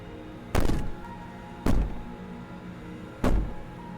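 Three heavy, evenly spaced thuds of banging in the horror game Slay the Princess, each a loud booming impact that trails off over a low background drone.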